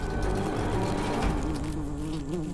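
Loud, steady droning buzz of many flies swarming close by, continuous and wavering slightly in pitch throughout.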